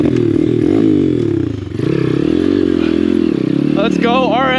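A Chinese dirt bike engine revs hard as it climbs over rough hard enduro terrain, a loud continuous rising and falling buzz with clattering and scraping, and a rider's voice breaks in near the end.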